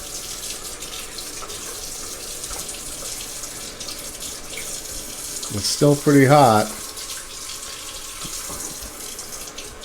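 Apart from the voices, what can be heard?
water running from a Delta faucet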